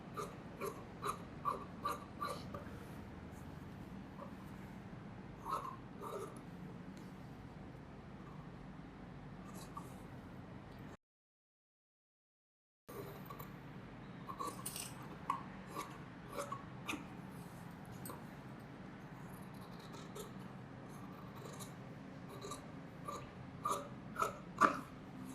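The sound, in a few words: scissors cutting chudithar lining fabric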